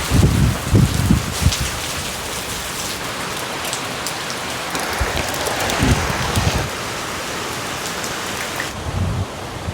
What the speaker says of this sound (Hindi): तेज हवाओं के साथ बारिश की बौछार, पूरा यहाँ ऊपर सीढ़ियों तक आ गया भाई पानी।